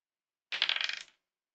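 Two dice clatter and tumble across a hard surface in a quick rattling burst that lasts about half a second, close and alone, during a solo sci-fi tabletop RPG session.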